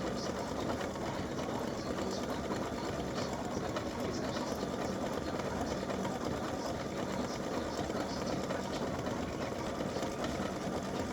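An embroidery machine stitches an appliqué design for a patriotic or veteran side seam split pattern, giving a steady, continuous mechanical whir with fast needle chatter that runs unbroken throughout, with no voices over it.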